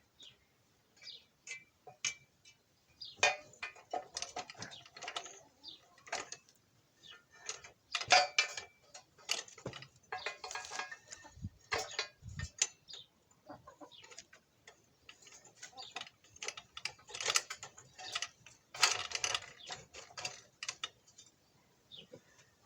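Jack being worked to bend a Moskvich 412 leaf spring at home, giving repeated metallic ticking and clinking strokes in irregular bursts, close and moderately loud with no voices.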